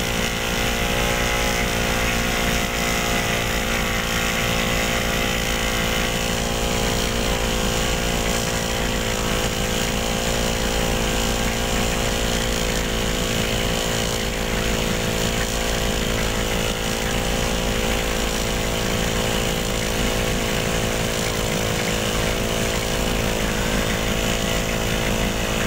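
A portable air compressor runs steadily close by, a loud continuous motor drone with a constant buzzing hum and no pauses or talk over its full length.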